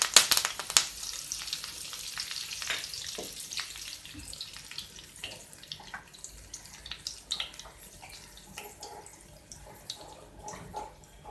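Asafoetida and curry leaves hit hot oil with a sharp burst of sizzling and spitting. The frying then settles into a softer crackle with scattered pops.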